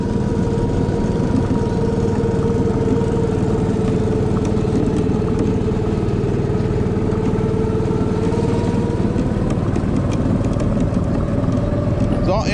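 Small go-kart engine on an amusement park ride at Rasti-Land, a steady buzzing drone held throughout, loud and close, with a slight change in pitch near the end.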